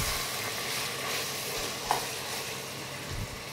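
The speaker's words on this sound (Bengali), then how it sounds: "একটু খন্তি দিয়ে দেখে নিতে হবে একটা গাজর, যে গাজরটা নরম হয়েছে কিনা।" Carrots fry in a pan while a spatula stirs them, giving a quiet, steady sizzle with occasional soft scraping and knocks of the utensil, and no voices.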